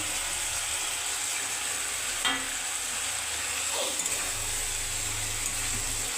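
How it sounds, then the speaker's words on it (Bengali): Steady dense sizzle of fried cauliflower pieces in a frying pan, with one or two brief clinks or stirs near the middle, close and continuous, with no talk. "এবার ফুলকপি ভাজাগুলো দিয়ে দিচ্ছি"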